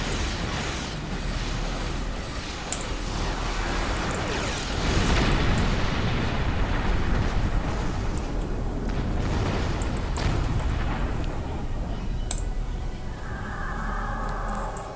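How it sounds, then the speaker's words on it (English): Heavy plasma torpedoes blow up in a Star Trek Online space battle, a rumbling roar of explosions that swells in the middle of the fight, with scattered sharper bursts and some mechanical whirring near the end. "Heavy plasma torpedoes out."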